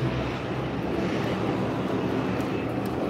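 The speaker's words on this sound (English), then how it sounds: "here comes a plane" Steady broadband roar of an airplane at Fukuoka Airport, a continuous jet engine rumble heard alone with no talking, loud and unbroken throughout.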